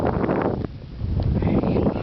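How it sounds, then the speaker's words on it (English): Strong wind buffeting the microphone outdoors at a ski resort in New York, a constant low roaring rumble with brief dips, loud and close throughout. "it's pretty windy out here today."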